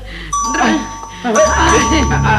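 A doorbell rings in a Pakistani TV comedy drama, its steady bright chime tone sustaining for a couple of seconds while people talk loudly over it.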